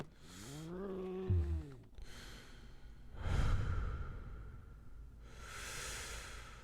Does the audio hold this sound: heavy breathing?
yes